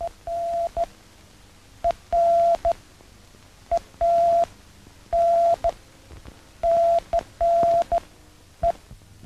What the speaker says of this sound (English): Here they are learning the Morse code.